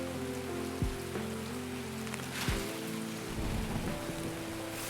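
Steady rain patters across surfaces in the Escape from Tarkov game world, a dense continuous wash with faint low rumbles and occasional brief thuds mixed in.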